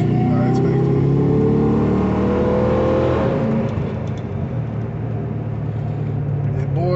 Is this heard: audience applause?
no